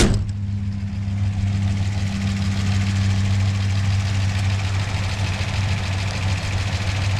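A 1960s car engine idles steadily with a low hum and a fast ticking rocker or lifter noise running through it, close and continuous, with no talking.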